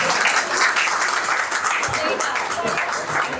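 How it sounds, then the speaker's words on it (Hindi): An audience at a Hindi comedy poetry show breaks into dense, continuous clapping, loud and close, sustained for a few seconds. "ताली वाली बजाओ तो मैं आगे बात।"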